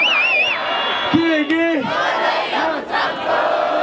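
A loud stadium concert crowd roars and whoops continuously, with shouting voices rising over the din.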